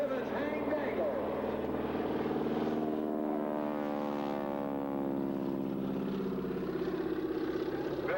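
At an airshow in East Hartford in 1986, an airplane engine drones steadily as it flies past, its pitch sweeping and shifting with a rising and falling rumble, loud and sustained throughout.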